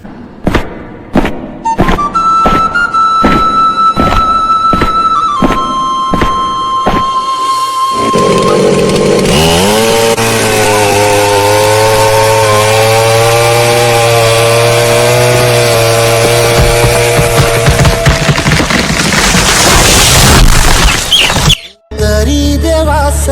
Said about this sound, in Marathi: येते वेळी कटर मशीन घेऊन या